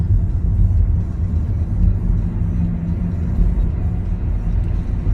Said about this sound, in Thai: ไปทดลองขับกันเลยครับ เอาละครับ ไปกันเลยออกตัว เกียร์หนึ่ง เกียร์สอง